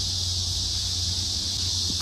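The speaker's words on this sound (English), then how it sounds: "You can hear the cicadas." Cicadas calling at a campsite in a state park during an overnight camping trip, a loud, continuous high buzzing drone that stays steady throughout, with a low hum underneath.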